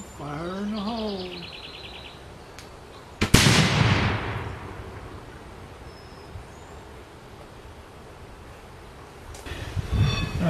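A replica Bailes 11 bore barrel fires once during a proof test, a single sharp outdoor blast with a decaying rumble. Birds chirp before the shot, and a voice is heard briefly near the end.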